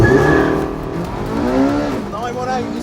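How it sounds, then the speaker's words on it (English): A Porsche 918, a four-wheel-drive hypercar, launching hard off the line, its engine note climbing through the gears with a loud close roar while excited voices talk over it. "918 is 4-wheel drive, so it gets off the line better."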